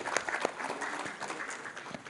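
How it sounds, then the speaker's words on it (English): Audience at an NTPC occupational safety and environment conference applauding, a short burst of dense clapping from a hall crowd, moderately faint and fading slightly. "Please give a round of applause and welcome him on stage."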